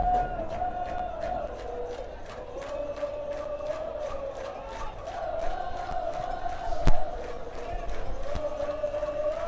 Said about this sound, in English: So the hooligans are all here making a stack of noise.